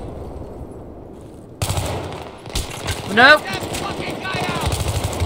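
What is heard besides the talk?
burst rifle fire in the video game Battlefield 3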